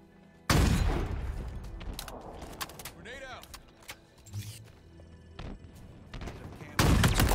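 Gunfire in Halo Infinite multiplayer, loud sudden bursts opening and closing a stretch of scattered shots and mechanical clicks, with players talking over it.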